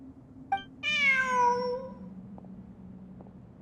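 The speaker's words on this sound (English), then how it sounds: "Look! A cat!" A cat in the video game Genshin Impact gives one clear, drawn-out meow that falls in pitch, framed by a few faint short game sounds over a low background hum.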